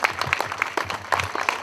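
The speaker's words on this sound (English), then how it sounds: "let's applaud them for what they're about to do" An audience at an anniversary charity gala and auction claps, producing a sustained patter of many overlapping hand claps at moderate loudness that fills the room evenly.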